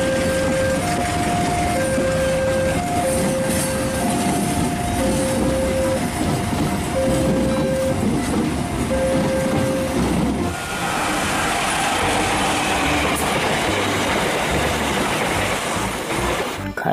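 Economy-class KRL commuter train carriage rolling steadily on rails, with a continuous loud rumble and clatter; a short repeating tonal chime sounds during the first ten seconds, then the rumble grows rougher and noisier.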